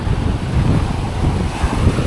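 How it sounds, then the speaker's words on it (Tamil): Sea waves rolling in and breaking on a shore, a close continuous roar of surf with wind buffeting the microphone and no voices. "அலை செம்மையாக இருக்குங்க, செம்ம அலையாக இருக்குது பாருங்கள்"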